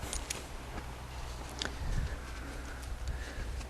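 Horse hooves clip-clopping over a polocrosse training field as the horse follows a thrown ball, a steady soft patter of footfalls in outdoor ambience with a few light ticks and faint birdsong.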